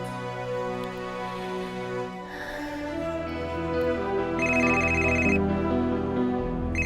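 A telephone rings in a domestic scene with steady repeating electronic tones over a background music bed, moderately loud and without talk.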